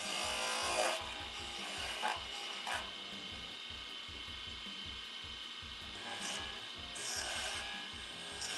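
Wood turning on a lathe with a traditional spindle gouge, a steady rasping, scraping hiss of the blade cutting the spinning workpiece, continuous and fairly close, with brief louder bursts of chatter.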